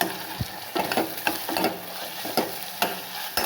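Broad bean curry fries in a pan, with a steady sizzle broken by repeated sharp spatula scrapes and taps at an irregular rhythm, close and fairly loud with no talking.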